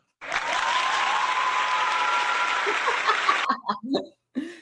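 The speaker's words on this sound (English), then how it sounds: "Anthony clapped way too well" Steady, dense applause from many hands runs for about three seconds and then stops abruptly, leaving a few short voices and scattered chuckles.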